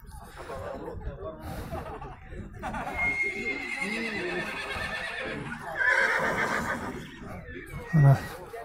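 Horses whinny and neigh at a busy horse market, with a louder neigh near the end, all under a steady crowd of people talking and laughing.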